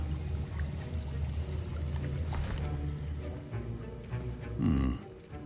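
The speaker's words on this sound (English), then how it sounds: "I see most of you have not forgotten how to stir." A potion stirred in a cauldron in the Hogwarts Legacy video game: a low, steady bubbling and sloshing liquid churn, fairly soft, with a fuller gurgling swell near the end.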